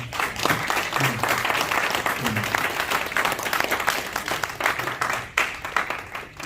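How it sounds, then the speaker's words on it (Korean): Congregation at a fundraising night for comic-book evangelism gives a missionary a hearty round of applause, dense clapping from many people that swells, holds, and then thins toward the end. "우리 장재호 선교사님 잠깐 박수 한번 쳐주시기 바랍니다"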